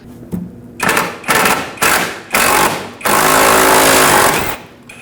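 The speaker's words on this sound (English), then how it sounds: "Use an 8mm socket and remove this bolt." A ratchet with an 8mm socket works a bolt on the rusted parking brake cable bracket of a 2013-2019 Ford Escape, giving several short loud bursts of rapid clicking followed by one longer continuous run.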